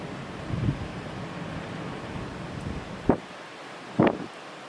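Strong gusting wind of Typhoon Hagibis in Kawagoe, Japan, a low rumbling roar buffeting the microphone with two sharp louder gusts near the end, no speech heard.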